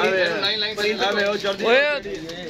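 Racing pigeons cooing close by in a loft, with rising and falling throaty calls repeating over about two and a half seconds, loud and clear with no other sound competing.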